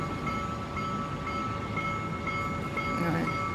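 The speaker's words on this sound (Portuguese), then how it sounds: "É o sinal do trem." At a city railroad crossing in Jaraguá do Sul, Santa Catarina, Brazil, the warning signal holds a steady electronic tone over a continuous, loud rumble of passing rail traffic.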